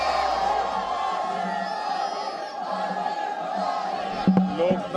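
A dense crowd gathered outside a polling station murmurs and calls out steadily, with a few louder shouts near the end.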